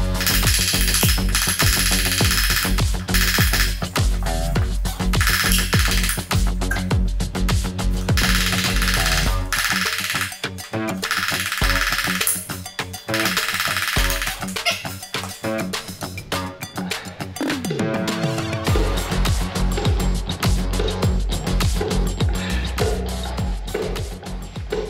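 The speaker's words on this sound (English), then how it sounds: "So I need to hammer this out now, which I'll show you with a plastic hammer." Plastic hammer driving the CV joint shaft out of a Volvo TGB 13 6x6 ex-military truck under restoration: a long run of loud, close, repeated knocks with metallic clinks, struck in uneven bursts for about 25 seconds with no talking.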